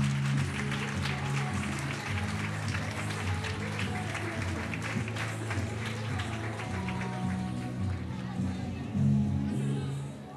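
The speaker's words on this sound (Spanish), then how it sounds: "Un fuerte aplauso para Julieta, nos ha gustado mucho el logoti" Applause from an audience at a school logo contest awards for International Women's Day, a dense, steady clapping that lasts throughout, with music tones and some voices underneath.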